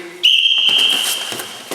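A single long, shrill whistle blast starts a catch wrestling drill, sounding close and loud and held for about a second before fading, followed by faint movement noise.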